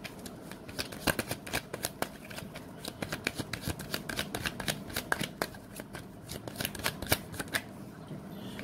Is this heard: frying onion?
no